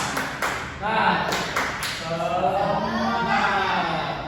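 Primary school students do a rhythmic spirit clap in a classroom: a few sharp claps near the start, then the class's voices carry on over it.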